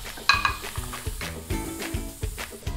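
Butter melting in a pan for risotto, a soft steady sizzle under a series of knocks and scrapes from a utensil moving against the pan, close and fairly busy.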